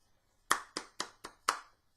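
Five sharp hand claps ring out for Connor in an uneven rhythm, close and clear, with nothing else around them.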